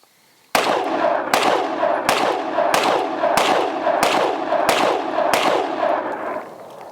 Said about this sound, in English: All right, we got Jade up. Her first rounds through the Springfield Hellcat Pro.